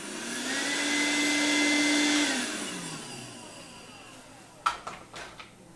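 An Evertop cordless 3-in-1 vacuum cleaner runs with a steady motor whine for about two seconds, then spins down as it switches off, followed by a few close clicks and knocks of handling.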